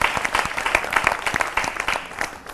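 An audience at a public event claps in dense, lively applause to welcome Gujarat's chief minister. The many hands make a continuous patter that thins slightly toward the end.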